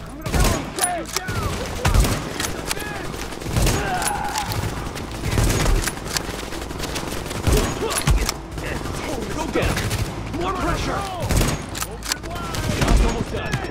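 Gunfire fills a shootout in The Division video game, dense bursts and rapid volleys of shots layered with shouting voices throughout, loud and close.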